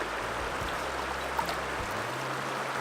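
Gold pan swirled underwater in the Bear River, a steady close wash of flowing stream water with soft low sloshes and faint gravelly movement throughout.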